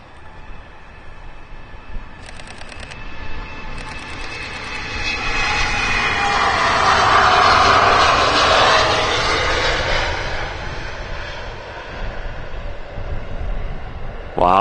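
A jet airliner at Amsterdam Schiphol Airport rolls past with a loud, broad engine roar that swells to a peak midway and then slowly fades, steady and fairly near.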